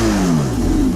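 A Porsche 918 Spyder, whose 4.6-liter V8 hybrid powertrain is paired with two electric motors, gives a loud, sustained high-revving howl whose pitch slides down slightly across about a second, with no talking.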